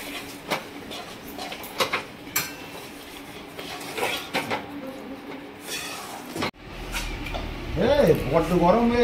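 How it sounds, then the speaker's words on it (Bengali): Roasted sesame seeds tipped into melted jaggery in a pan for sesame laddoos, with spoon scrapes and clinks of the pan under a speaking voice, ending in a steadier sizzling stir. "এবার তিলগুলো ঢালা হবে গুড়েতে"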